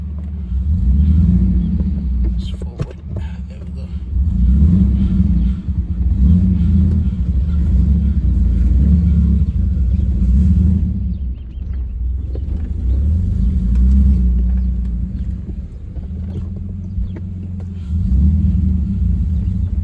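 BMW E46 with an M52TU engine in limp mode revs repeatedly but stays capped near 2000 rpm, a loud low rumbling engine swelling and falling in several cycles with no talking.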